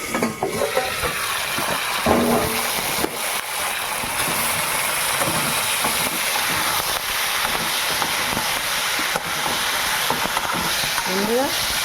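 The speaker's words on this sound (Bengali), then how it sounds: "কুমড়ো আর আলু ভাজা ভাজা হয়ে গেছে" Pumpkin and potato fry in a wok with a steady, dense hiss and sizzle that runs the whole time, with a voice talking over it now and then.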